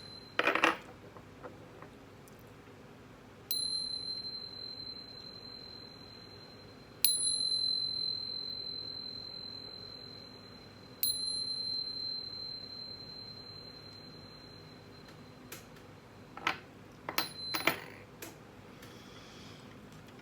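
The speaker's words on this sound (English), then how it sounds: "But first, let's chime." A metal chime is struck several times, each strike ringing out bright and clear before slowly fading, with quiet gaps and a few soft taps between strikes.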